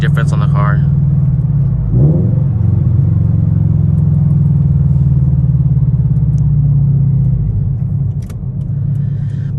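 A car engine with aftermarket exhaust headers idles with a loud, deep, steady rumble that swells briefly partway through before settling back to an even drone.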